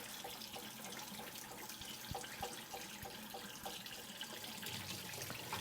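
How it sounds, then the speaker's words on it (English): Tap water runs into a sink while a glass plant propagation jar is rinsed, a steady soft hiss and splash with faint knocks and clinks of glass throughout. "So I'm just going to try to do the best I can with rinsing it."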